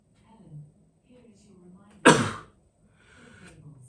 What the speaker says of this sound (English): God, I'm sneezing.